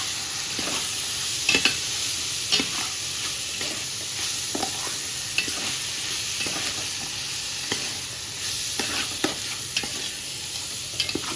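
Steady frying sizzle as rice fries with spices, with repeated scraping and stirring in a pan, spoon strokes clicking at an irregular pace throughout, no voices.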